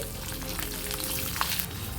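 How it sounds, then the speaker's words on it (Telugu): Tempering of peanuts, dried red chillies, curry leaves and green chillies frying in hot oil, a steady close sizzle with faint stirring, no voices. "ఇప్పుడు ఇందులోకి ఎండుమిర్చి అలాగే కొద్దిగా కరివేపాకు అలాగే పచ్చిమిర్చిని కూడా వేసుకొని ఫ్రై చేసుకోవాలి"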